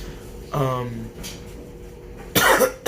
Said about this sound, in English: I have a cough, which is not great